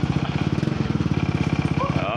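Motorcycle engine running after a month of not starting, following troubleshooting of the stator; a close, loud, steady rapid putter with a regular pulsing beat throughout.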